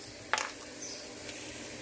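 Onions frying with a little turmeric and salt in a pan for tomato rasam, stirred now and then: a faint, steady sizzle with a few soft scraping strokes, no voices.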